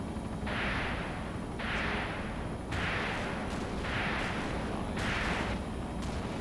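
Rocket launches from an aircraft's CRV-7 PG weapon in the video game ArmA 2 Operation Arrowhead, five loud whooshing bursts repeating roughly every second over a steady engine drone, with no talk.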